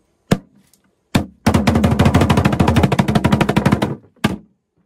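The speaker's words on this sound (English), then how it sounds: "This drum is very special. In our language, we call it boom boom boom because of the type of sound it makes." Ceremonial Mijikenda drum from Malindi struck by hand: two single booming hits, then a long rapid roll of dense beats lasting over two seconds, and a final single stroke, loud and close with no talking.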